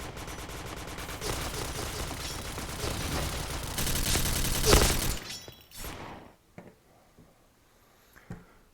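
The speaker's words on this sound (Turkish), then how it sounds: "bizim adam bana sıkıyor da gördünüz değil mi?" Dense, rapid gunfire fills the first five seconds of a Point Blank online shooter match, loud and crowded with overlapping shots, then breaks off into a few scattered isolated reports over near-quiet.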